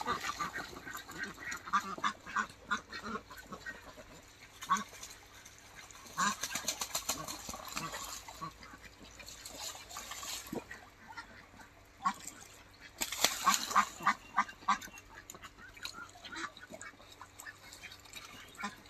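Ducks bathe in a garden water channel, quacking and honking in scattered bursts over splashing and dabbling water, with occasional voices nearby.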